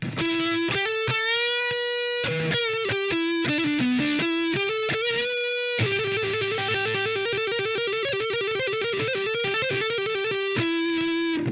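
An electric guitar through a distortion pedal with its crunch setting off plays chords and sustained notes, loud and saturated, with a short pause partway through.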